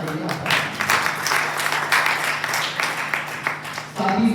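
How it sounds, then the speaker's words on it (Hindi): A crowd applauds with dense, continuous clapping that holds steady for several seconds at an oath-taking ceremony. "जोरदार तालियां।"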